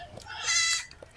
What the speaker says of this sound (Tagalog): Ang cute ng kambing.